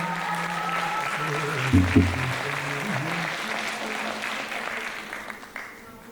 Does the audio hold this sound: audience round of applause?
yes